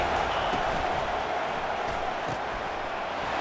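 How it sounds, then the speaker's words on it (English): A college football video game stadium crowd roaring on third down as an even, sustained wash of cheering noise, steady and broad with no distinct peaks. "Decibels rising as the crowd gets behind this defense on third down."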